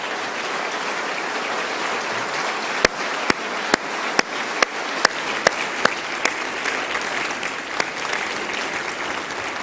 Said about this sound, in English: let's give her and Jon a round of applause